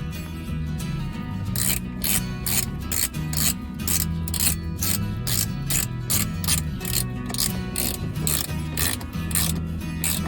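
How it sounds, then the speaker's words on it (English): A ratchet wrench fitted with a 10mm socket tightens a part during a Toyota Camry radio and back-up camera install, giving a fast, even train of close ratcheting clicks over low background hum. "I'm gonna put it back with this 10mm socket."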